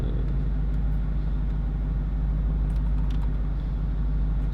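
A 2022 Dodge Charger Hellcat widebody rolls along with a deep, steady engine rumble, a constant loud low drone heard from inside the car, with no voices.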